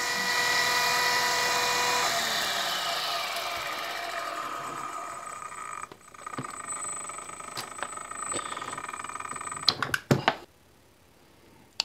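A brushless motor converted from a car alternator runs at high RPM with a loud whine, then briefly stops around six seconds and spins up again before cutting to near silence near the end with a few clicks.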